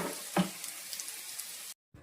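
Fish frying in a pan for a simple village-style fish fry, giving a close, steady sizzle with a brief spatter pop, then cutting to silence before a faint return.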